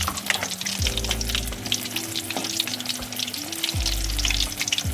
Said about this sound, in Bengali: এবার এটাকে লো টু মিডিয়াম হিটে ফ্রাই করতে হবে